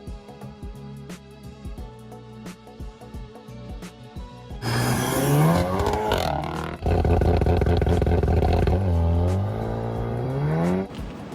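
Car engine revving hard up and down through the gears on a controlled high-speed venue, captured for Forza Horizon 5; quieter idle and blips at first, then loud sustained rising and falling revs with gear changes.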